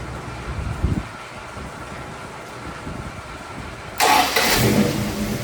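A small block Mopar V8 in a Dodge D150, running a rich idle mixture, cranks and catches abruptly near the end, going from a low rumbling background to a loud, broadband roar that holds steady.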